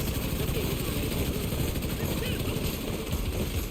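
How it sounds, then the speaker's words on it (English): Steady helicopter rotor and engine drone from The Division 2 fills the scene at a constant loud level, a dense continuous roar with no breaks. "Now the helicopter's on the way. It's coming."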